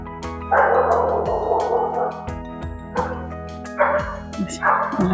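A dog barks repeatedly in rough bursts, some long and hoarse, others short and yelping, fairly loud over a steady electrical hum.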